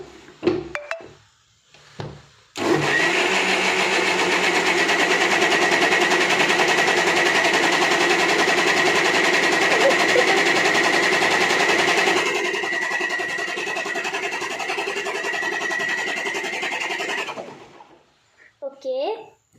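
Blender grinding strawberries, milk and sugar into a milkshake, a steady loud whirring drone that runs for about fifteen seconds, dips slightly partway through, then cuts off, with brief handling sounds before and after.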